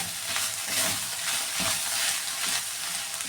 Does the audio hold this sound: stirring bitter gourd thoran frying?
yes